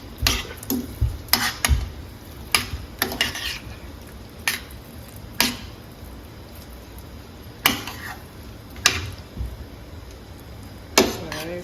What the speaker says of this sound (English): You just stir everything